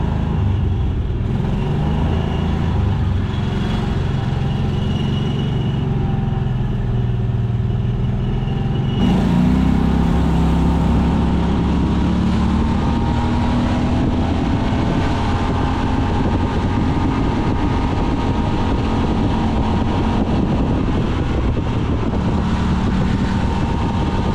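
A modified golf cart drives steadily for a long stretch, its motor whining and droning up close with a shift in pitch partway through, and no talk over it.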